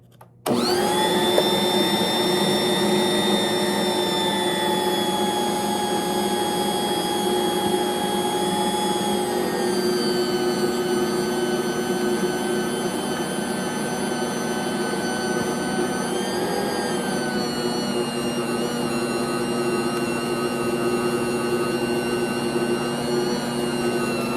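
A stand mixer runs loud and steady, churning Christmas cookie dough with a constant high-pitched motor whine and whirr that continues alone, without talk, from start to finish.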